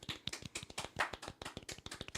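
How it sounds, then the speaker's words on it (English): A small group claps in a quick, uneven rhythm, faint and close, with no voices over it. "Round of applause"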